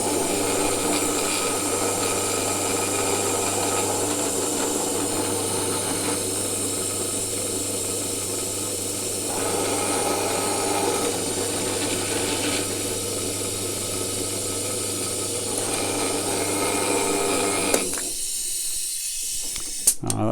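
A power drill bores a hole into a Land Rover Defender TD5 air reservoir tank, a steady close whirring grind running for about seventeen seconds before stopping abruptly.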